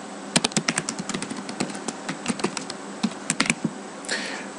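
Fast, irregular clicking of a computer keyboard as VBA code is typed, close and crisp, in short bursts with brief pauses.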